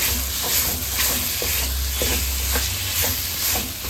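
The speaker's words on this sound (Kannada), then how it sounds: "ಚೆನ್ನ ಮಿಕ್ಸ್ ಮಾಡ್ತಾ ಫ್ರೈ ಮಾಡ್ಕೊಳ್ಬೇಕು ಇದನ್ನು" A laddu mixture of alvi seeds being stirred and fried in a pan, giving a steady sizzling hiss with regular soft scraping strokes roughly every half second, close and continuous with no talking.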